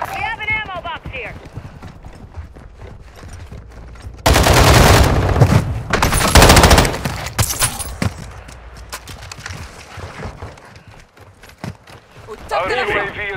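Bursts of automatic gunfire in Call of Duty, with a loud, dense volley of rapid shots in the middle and scattered shots and footsteps around it. Voices talk over parts of the sound.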